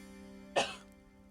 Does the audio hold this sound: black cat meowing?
no